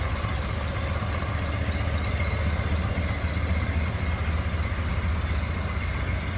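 A 1931 Ford Model A Roadster's stock inline four-cylinder engine idles smoothly and steadily at close range, a continuous low rumble without any talking.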